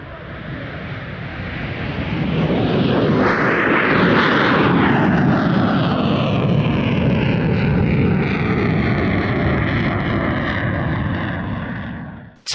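A Russian Air Force Sukhoi Su-35S fighter jet roars past at low altitude, its engine noise swelling to a loud peak with a sweeping pitch shift, then holding steady before cutting off abruptly.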